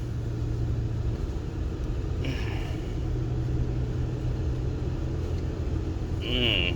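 Steady low rumble of a car driving, heard from inside the cabin at constant volume, with a brief higher whine partway through.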